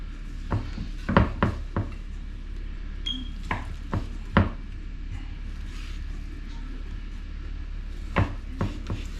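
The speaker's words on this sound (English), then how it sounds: "Cut our bacon up." A dull-edged kitchen knife chops bacon for a bacon and egg pie, sharp irregular knocks on a board landing singly and in quick pairs, close and clear over a low steady room hum.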